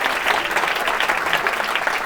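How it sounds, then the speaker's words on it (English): Comedy club audience bursting into steady, loud applause at a live stand-up show, a dense wash of many hands clapping together with no gaps. "a round of applause for her for going to therapy"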